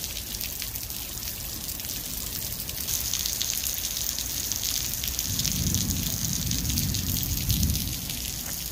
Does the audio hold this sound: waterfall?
yes